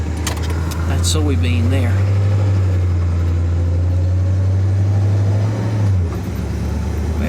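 A 1964 Pontiac runs with a steady low engine drone that cuts off near the end, the gear shift barely distinguishable, while someone talks over it.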